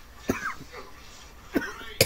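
A person coughs in a few short, separate bursts, fairly close and moderately loud, with quiet pauses between them during a casual online game chat.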